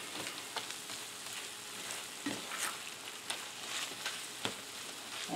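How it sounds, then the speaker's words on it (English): Sausage meat being worked together with cream cheese in a bowl, a steady wet squishing and stirring with soft repeated slaps and clicks, close and continuous, no talking. "Mix it all up so that it's all nice and creamy."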